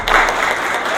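Audience applause in a public library talk, a short burst of dense clapping that holds steady at moderate loudness throughout.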